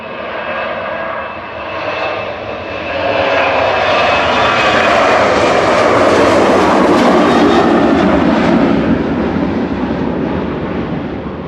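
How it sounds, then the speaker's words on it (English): A SunExpress Boeing 737-800, sixteen years old, departs Manchester Airport bound for Dalaman, its jet engines swelling into a loud, broad roar that peaks mid-clip and holds steady close by. "That's Sun Express flight 505, heading over to Dalaman. That's a 737-800 TC SPZ, 16 years old."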